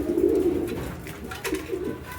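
A pigeon coos close by, with a couple of soft, throaty rolling calls that stand out over a quiet background.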